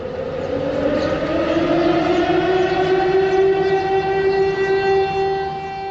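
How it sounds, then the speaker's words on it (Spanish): A long, loud morning siren sounds across Pyongyang, a steady sustained wail whose pitch slowly rises, dominating the scene throughout with no talk. "suena una sirena para despertar a la ciudad y sus moradores"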